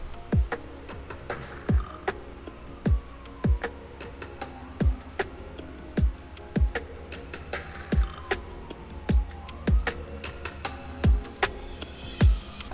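An electronic future bass drum loop in FL Studio repeats steady punchy kicks and crisp hits while an automated filter cutoff slowly opens, the sound growing brighter and fuller over time with a faint sweeping tone behind it.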